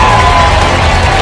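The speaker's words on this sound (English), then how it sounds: "and this crowd loves it" Homecoming college football crowd at a Birmingham Southern Panthers game against Sewanee cheering a 95-yard touchdown, a loud, dense, continuous roar of voices filling the stadium.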